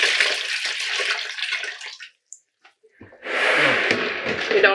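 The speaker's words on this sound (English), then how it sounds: "You don't have to squeeze out all the water." Freshly dyed yarn wrung out by hand, with a close, loud splashing gush of water that stops briefly, leaving a few faint drips, then resumes strongly.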